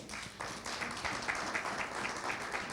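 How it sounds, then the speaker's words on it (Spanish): Applause from a church congregation for the Lord, a moderately distant, even patter of many hands with slight rhythmic surges, continuing steadily without pause. "Dale un aplauso al Señor"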